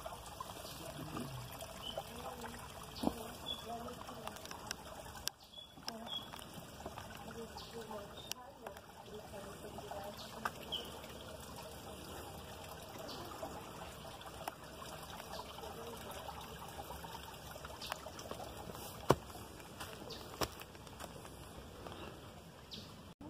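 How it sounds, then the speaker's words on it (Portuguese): A small, clear stream in the forest on an ecological trail in Bombinhas, Santa Catarina, trickling and babbling softly and continuously, with occasional faint knocks and clicks nearby. "aqui um riozinho. Olha só que água limpinha, gente."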